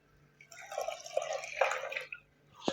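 Tamarind fish gravy liquid pours and splashes into a pan in a short, close burst, followed by a brief drip.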